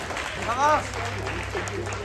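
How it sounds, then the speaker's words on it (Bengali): At an all-Bengal college quiz, the audience gives a short round of clapping under a loud announcer's voice in a hall. "জোরে হাততালি"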